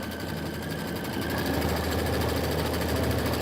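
An embroidery sewing machine stitches a quilting stitch, a fast steady mechanical whirr with rapid even needle pulses, continuous and close, without pauses.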